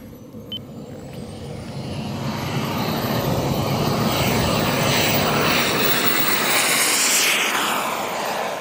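An RC jet aircraft's engine builds from a whine into a loud, sustained roar as it powers up for takeoff at night, holding strong and close throughout.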